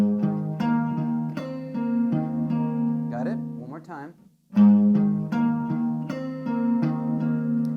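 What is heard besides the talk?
guitar playing a riff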